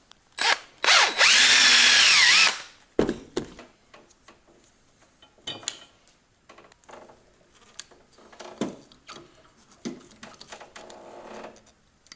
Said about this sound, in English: I'm going to drill out a couple of these ring terminals